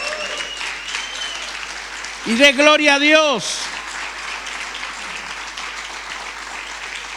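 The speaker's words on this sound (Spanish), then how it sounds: "Si quiere aplaudir, ahora aplauda." A congregation at a Spanish-language church service applauds steadily throughout, a dense wash of clapping, while a voice briefly shouts out loudly in the middle.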